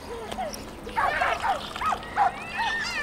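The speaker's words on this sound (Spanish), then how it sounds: "Está molestando al perro." A dog whimpers and yips in a series of short, high, whining cries, some rising into small barks, close by over a steady background hum, with a voice faintly mixed in.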